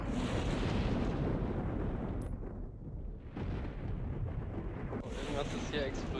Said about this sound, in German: Was ist hier explodiert bei mir?